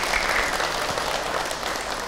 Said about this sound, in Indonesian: sekarang kita tepuk tangan Bu untuk Ustaz Cep ya